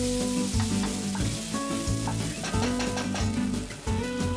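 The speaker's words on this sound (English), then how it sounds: "Add 3 onions chopped and fry it until it is soft." Chopped onions frying in hot oil in a pan, a steady close sizzle with repeated stirring scrapes and clinks, while soft music with sustained tones plays throughout.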